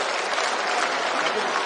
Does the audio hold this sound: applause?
yes